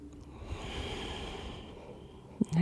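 A long, steady exhalation during a yoga session, a soft breathy rush held for about two seconds, close and quiet, ending in a brief snort-like catch and faint rustle.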